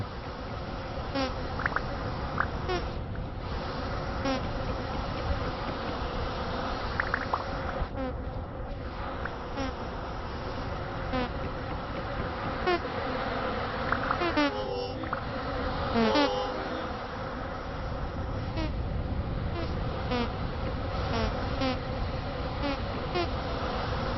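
Bees buzz steadily and close by, a continuous droning hum with individual insects swelling and fading as they pass, with no one speaking.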